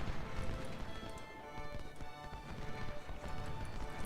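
Cavalry horses gallop in the Ultimate General: Civil War strategy game, a dense continuous drumming of hooves under battle din and layered game sounds, with no talk.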